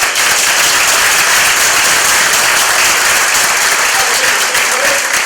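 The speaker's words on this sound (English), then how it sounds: "Nice round of applause." Loud, dense applause fills a brewery venue at a live tech conference in Somerville, Massachusetts, a continuous wash of clapping that stays at full strength without letting up.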